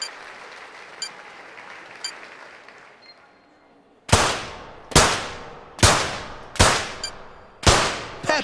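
At a London 2012 Olympic shooting contest, five sharp, loud shots ring out in a quick, evenly spaced series, each with a short ringing decay, after a stretch of quiet crowd ambience with faint ticks.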